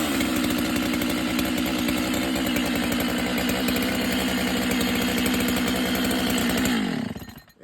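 A Husqvarna chainsaw engine runs at a loud, steady, buzzing idle close by, then cuts out and winds down abruptly near the end.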